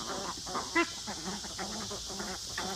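Farm ducks quack in short, repeated calls at a moderate distance, with a steady outdoor background hiss beneath them.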